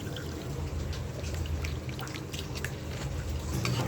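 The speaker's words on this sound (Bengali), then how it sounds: "দিয়ে দিচ্ছি নারকেলের দুধ" Coconut milk is poured into a cooking pot for ilish polao, a soft steady liquid pour and trickle with light splashes close by, no voices.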